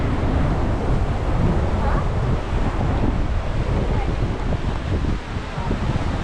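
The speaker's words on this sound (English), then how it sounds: "It's gonna be kind of windy today" Steady, loud wind buffets the microphone throughout, a dense rushing roar with no pauses, on a seaside street and trail at Hac Sa, Coloane, Macau.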